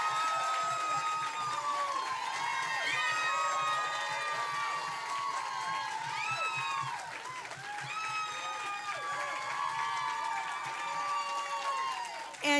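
A crowd at an election night Democratic Party event applauds and cheers, with shouts, whoops and sustained clapping that swells and stays loud, voices rising over the noise.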